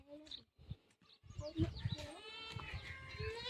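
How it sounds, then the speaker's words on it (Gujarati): A goat bleats in a farm setting in short wavering cries, mixed with people talking nearby. "બકરું કાઢી દેજો"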